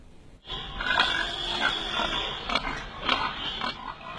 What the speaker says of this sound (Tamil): இந்த பண்ணையின் பன்றிகளுக்கு புதிய பயன்பாடு உருவாகியிருக்கிறது.